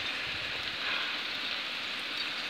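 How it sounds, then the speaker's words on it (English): Rain falls steadily during a thunderstorm, an even, continuous hiss of drops with no break and no voices, heard at a moderate distance. "So, it's raining"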